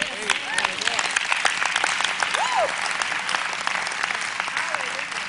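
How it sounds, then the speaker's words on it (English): Congregation at a seminar on the kingdom of heaven clapping steadily in a dense, sustained round of applause, with scattered voices and cheers rising over the clapping. "If you agree with that, clap."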